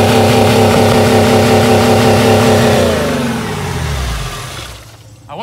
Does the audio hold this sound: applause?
no